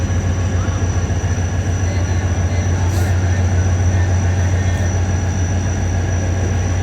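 Greenline passenger train on the Lahore to Karachi run, hauled by a GMU locomotive, rolling steadily at speed: a continuous low rumble of wheels and carriage with a faint high whine, heard from inside the coach.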